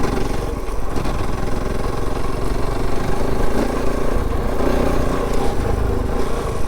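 A Kove 450 Rally motorcycle climbs a rocky trail, its engine pulling at a steady, fairly loud throttle with slight surges and rough wind and terrain noise around it, with no talking.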